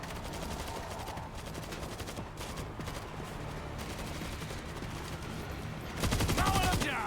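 Rapid automatic gunfire in the zombie shooter World War Z sounds as a dense, continuous rattle of shots, swelling louder near the end, with faint voices mixed in.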